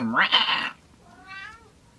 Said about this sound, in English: Loudest cat ever.